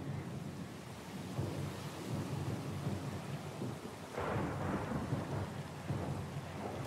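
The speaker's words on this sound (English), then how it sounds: "A little sloop, lost and alone in the storm." Stormy weather in Pillars of Eternity 2, with steady rain and rolling thunder around a small sloop at sea; a constant hiss of rainfall under low rumbles, and a heavier thunder swell near the middle.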